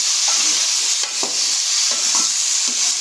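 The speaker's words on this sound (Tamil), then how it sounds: "பிரண்டை வந்து நல்லா வதங்கட்டும்." Adamant creeper (pirandai) sautéing in a pan, a steady broad sizzle with soft scraping stirs at irregular intervals, close and fairly loud, no voices.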